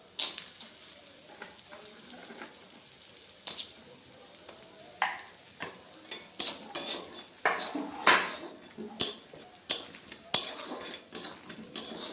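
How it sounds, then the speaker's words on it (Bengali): Pieces of catla fish fry in a pan, a low steady sizzle broken by repeated sharp clinks and scrapes of a utensil against the pan, close up. "ভালোভাবে মাছগুলো ভেজে নিই"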